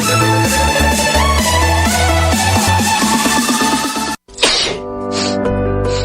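A single loud sneeze bursts out after a brief silence, cutting through steady background music.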